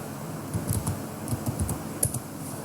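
Keys clatter on a computer keyboard as text is typed into a PowerPoint 2010 slide: soft, close, irregular keystrokes in short bursts with brief pauses, no voices.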